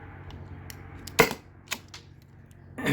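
A Byrna SD launcher fires on a weakening 12 gram CO2 cartridge late in its shot count, giving one sharp close pop followed by fainter clicks and a rising noise at the end.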